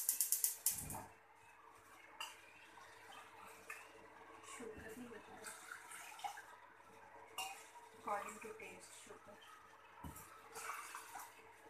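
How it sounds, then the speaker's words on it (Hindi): A pot of water for green tea set on a kitchen stove, faint clinks and knocks of metal cookware with soft splashing and scattered handling noises, quiet and intermittent in an indoor kitchen. "ये तीन का पानी हमने चूल्हे पे चढ़ा दिया है।"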